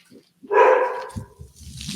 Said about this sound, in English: Aseeda, put the dog in his cage.